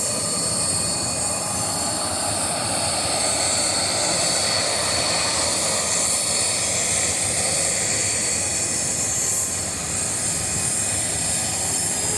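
A fixed-wing airplane's engines run steadily and loudly on the way to Antarctica, a constant broad roar with high whine, near and unbroken, no talking.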